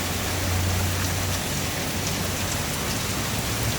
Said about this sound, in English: nice, beautiful, beautiful rain.